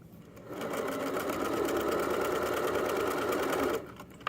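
A sewing machine stitches a seam along the folded edges of a fabric lanyard, running steadily and close for a few seconds before stopping.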